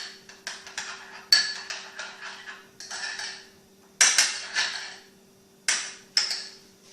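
A spoon mixes a sauce of natural yogurt, salt and vinegar for a chicken filling, making repeated clinks and scrapes against the bowl in irregular bursts, close and fairly loud.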